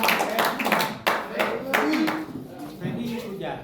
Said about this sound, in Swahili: Pigia makofi.